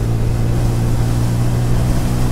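A Bajaj Pulsar N160 motorcycle runs hard at top speed with a loud, steady engine drone and a strong low harmonic hum. Wind rush comes with it and there is no talking.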